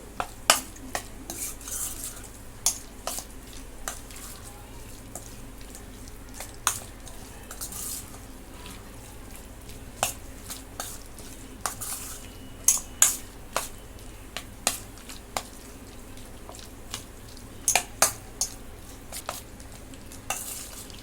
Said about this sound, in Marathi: सर्व मसाले इथे लावून घ्यायचे